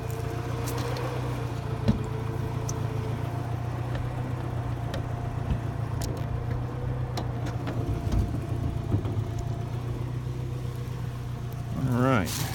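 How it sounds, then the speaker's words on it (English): A Saab C900 turbo convertible engine runs steadily with the hood open, a close, even idle hum with a brief rev-like rise near the end. "of the engine running."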